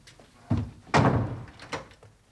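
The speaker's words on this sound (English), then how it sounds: "And shut the door." A door pushed shut indoors in a period English house, a soft thump followed by a louder, fuller slam close by, then a faint knock as it settles.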